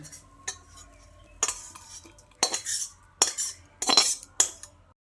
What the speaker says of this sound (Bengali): এবার আমি এই ভেজে নেওয়া মশলাটাকে একটা মিক্সিং জারের মধ্যে ভরে নিচ্ছি